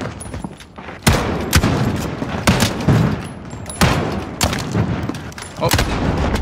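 A fast-firing gun in Modern Warfare unloads in loud, close bursts of rapid shots, the volleys repeating every second or so with brief gaps between them.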